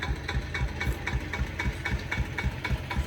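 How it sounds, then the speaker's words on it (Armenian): A tractor engine idles with a steady, rapid knocking chug, even and continuous at moderate distance, with no voices. "տրակտորի ձայնն է"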